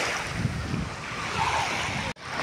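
Sea waves wash along Jumeirah beach, a steady broad surf roar mixed with wind buffeting the microphone, close and fairly loud, with a brief dropout near the end.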